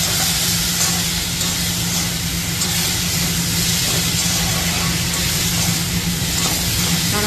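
Fish curry being cooked in a pan with salt and turmeric, a steady close hiss and sizzle that continues evenly with no break.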